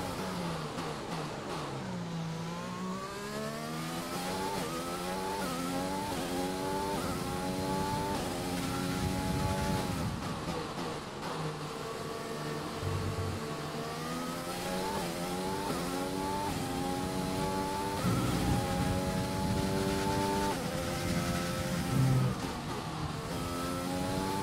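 A Formula 1 car in the racing game F1 2020 runs laps at the Hungary circuit, its high-pitched engine rising and falling through gear shifts and steady revving, loud and continuous with no talking.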